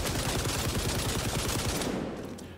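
Rapid continuous automatic gunfire from a weapon fitted with a muzzle booster in the video game XDefiant, a dense even burst of shots that stops abruptly near the end, with no talking.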